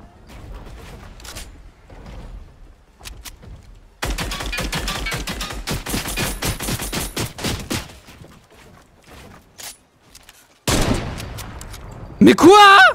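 Fortnite gunfire rattles in bursts, with long rapid strings of shots, scattered single cracks and quiet gaps between volleys, while a player talks and shouts over the shooting.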